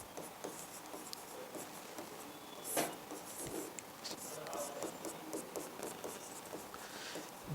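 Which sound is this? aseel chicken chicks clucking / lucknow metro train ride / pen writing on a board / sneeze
pen writing on a board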